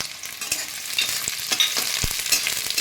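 Chopped onion with dried red chillies frying in mustard oil in a wok, a close continuous sizzle with occasional sharp scrapes and knocks from stirring.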